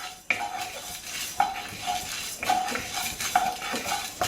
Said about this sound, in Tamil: இப்போது துவரம்பருப்பு போட்டு லைட்டாக ரோஸ்ட் பண்ணுறோம்.